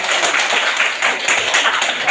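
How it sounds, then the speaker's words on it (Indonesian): A class of students claps their hands together, a dense, steady patter of many quick claps filling the room at close range. "Oke, tepuk tangan dulu."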